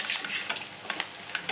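Bakwan vegetable fritters fry in hot oil, a close, continuous sizzle broken by sharp little pops and crackles.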